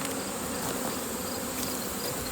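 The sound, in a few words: honeybees buzzing at a hive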